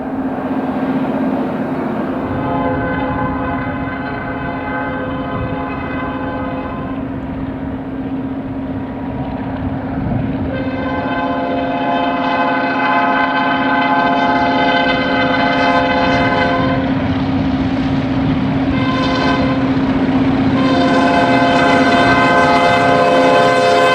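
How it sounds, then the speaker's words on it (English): Indiana Harbor Belt GP38-2 diesel freight locomotives throttle up hard to pull a loaded train to track speed, a loud sustained engine drone with rising harmonic tones that swell and shift throughout. "Indiana Harbor Belt, GP 38-2s are giving it all they've got as they get Burns Harbor Destin Job 115 up to track speed"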